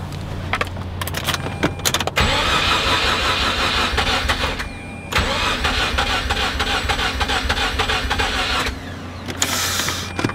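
A Mazda RX-8 rotary engine cranks for a couple of seconds, catches and runs, then cranks and fires again, settling into a steady, fairly loud running sound.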